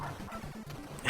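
A dog, the landlord's, gives a few short, moderately loud yips and barks at a cat through a window, close by, with faint background noise.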